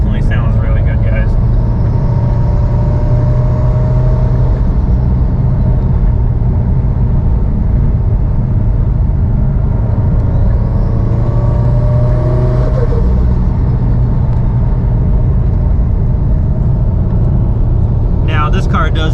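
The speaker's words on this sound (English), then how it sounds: "We'll go ahead and tip into it. And this is just partial throttle." A turbocharged Subaru STI with a stock-location turbo accelerates at partial throttle, its deep, steady engine rumble building loud and close for the whole stretch, with the tone rising midway.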